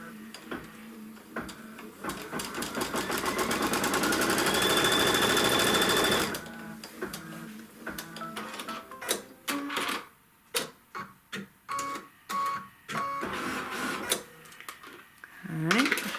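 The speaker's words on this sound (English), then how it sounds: "And then sew the seam." A sewing machine stitching a quilt seam, a fast steady whirring run of needle strokes for several seconds, followed by scattered clicks, handling taps and brief bursts of stitching.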